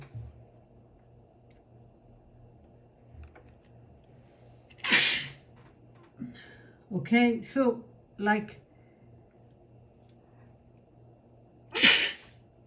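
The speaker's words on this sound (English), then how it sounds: "out of the blue I sneezed twice" Two sharp, loud sneezes burst out several seconds apart in a quiet room, with a person speaking briefly between them.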